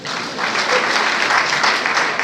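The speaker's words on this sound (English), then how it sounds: "You don't want to clap for me." Audience clapping fills a university event hall, steady and dense throughout, with no voices over it.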